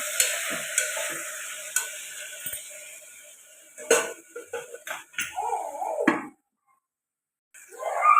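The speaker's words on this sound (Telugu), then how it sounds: "ఇది మళ్ళీ కలుపుకొని ఒక నిమిషం పాటు ఫ్రై చేసుకున్నాం" Tomato puree frying in a pan for a potato and pea curry, with metal spoon clinks and scrapes against the pan over a soft sizzle, a brief quiet gap, then stirring resumes.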